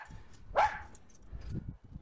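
A small Malshi dog gives a single sharp, close bark amid quiet outdoor background noise.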